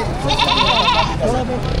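A goat at a livestock market bleats with a wavering, nasal cry, loud and close, followed by a shorter second bleat.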